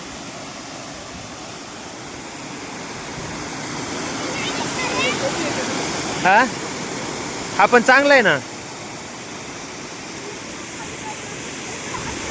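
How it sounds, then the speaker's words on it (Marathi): Strong water rushes over a village check dam after heavy rain, a broad steady roar filling the scene, while someone speaks briefly over it. "लोय पाणी आहे जोरात पाणी याला खूप"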